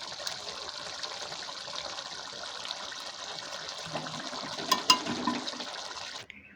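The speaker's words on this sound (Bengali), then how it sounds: "ব্যাস ঝোলটা ফুটে উঠেছে।" Chicken kosha gravy boils in a pan with a continuous close bubbling and watery hiss at an even level, with a few louder bubbling bursts near the end before it cuts off.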